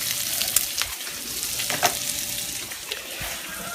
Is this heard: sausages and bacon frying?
yes